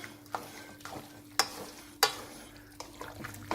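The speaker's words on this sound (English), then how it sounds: "And stir again." Noodles and food stirred together in a pan, with sharp scraping strokes and soft clatters recurring at irregular intervals over a faint, steady hum.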